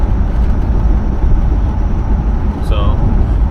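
A 1970 Cadillac Deville engine accelerates from inside the car as a steady, loud low-pitched drone. Road and wind noise are mixed in, with a brief faint squeak near the end.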